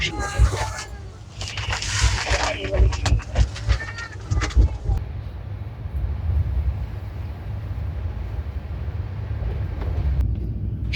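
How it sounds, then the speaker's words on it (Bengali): A Chennai Mail passenger train running through Santragachi station at night, a low continuous rumble of wheels and carriages with rhythmic clatter, with brief voices and other sounds at the start. "আমাদের ট্রেন সাঁতরাগাছি স্টেশনের উপর দিয়ে যাচ্ছে"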